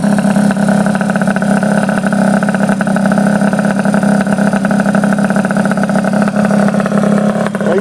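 A Honda Dio scooter fitted with a race exhaust pipe runs in a loud, close, continuous drone with a steady buzzing pulse, holding near-constant revs throughout with no talk.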